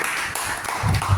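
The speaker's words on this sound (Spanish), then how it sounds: "Un aplauso." Applause rises from an audience listening to a talk by a war veteran, a brief, loud burst of mixed claps, with a heavier low rumble of hands and movement swelling near the end.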